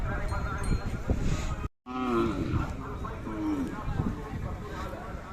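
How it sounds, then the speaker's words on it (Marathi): A Khillar cow at a village fair moos a couple of times, low and drawn out, at close range while people talk in the background. "अशा प्रकारची गाय आहे"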